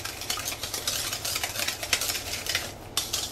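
An egg is mixed into peanut butter cookie dough, making close, irregular sticky scraping and squelching strokes in quick succession with a low hum behind; no talking.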